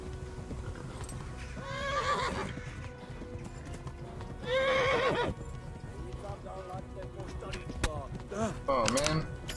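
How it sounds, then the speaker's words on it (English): Horse from the medieval game Kingdom Come: Deliverance, with steady hoof clip-clop throughout and several loud whinnies rising over it, the last ones near the end, under a low game soundscape. "Nice horse ride though."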